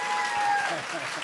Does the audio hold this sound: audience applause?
yes